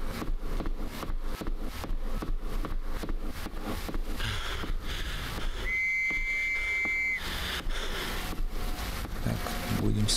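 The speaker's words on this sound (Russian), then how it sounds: "Так, будем свистеть." Whistling in the World War I horror survival game Trenches, a steady high tone held for about a second and a half partway through, heard over continuous rumbling ambience and murmured speech.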